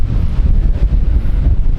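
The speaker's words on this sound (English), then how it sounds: "It's just wind. very windy again" Strong coastal wind buffeting the microphone with a steady low roar and irregular gusts, loud and close, with no talking.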